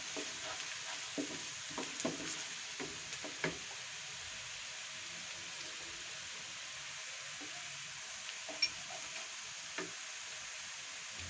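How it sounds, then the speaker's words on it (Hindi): Onions frying in oil in a pan for a masoor dal tadka produce a faint, steady sizzle, with occasional soft clicks and stirring scrapes scattered throughout. "हमने ऑयल में प्याज को अच्छी तरीके से फ्राई कर लिया है।"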